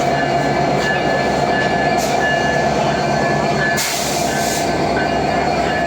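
The Jahanabad Express passenger train, on its inaugural run out of Khulna, pulls away from the platform with a steady, loud rumble and roar of wheels and cars, plus a brief brighter hiss midway.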